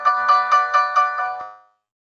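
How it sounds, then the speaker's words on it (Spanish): A mobile phone ringtone goes off during a talk on renewable energy, a bright repeating tone pulsing about six times at an even rhythm before cutting off, fairly loud with no voices over it. "¿me suena un móvil?"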